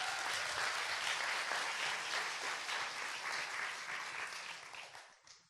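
An audience at a Korean business talk show bursts into dense, steady applause that holds loud for about five seconds, then tapers off at the end.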